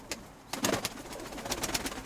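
Soft pigeon cooing close by, low throaty calls repeating in a gentle rhythm with faint rustling between them.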